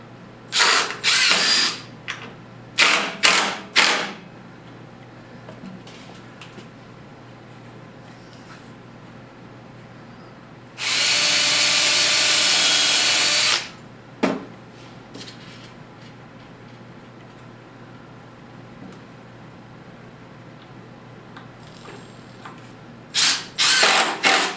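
A power drill drives screws into a wooden table saw sliding jig in short, loud whirring bursts, with one long sustained run in the middle and several quick pulses at the start and end, close up with no talking.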